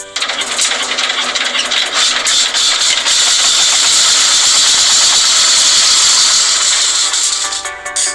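A river trawler's engine roars loud and steady throughout, a continuous mechanical drone with a hissing rush, no voices.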